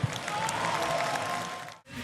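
Audience applause fills a KSW 104 mixed martial arts gala arena, a dense, steady wash of clapping from a large crowd that runs on and cuts off abruptly near the end.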